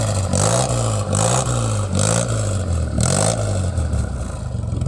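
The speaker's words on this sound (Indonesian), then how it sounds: "Ini dia yang pakai knalpot racing. Saya penasaran, coba kita dengar suaranya." A Suzuki Carry Futura minivan engine with a racing exhaust revs hard several times in a row with a loud, raspy note, each rise and fall close and rhythmic, ending on a steady high idle.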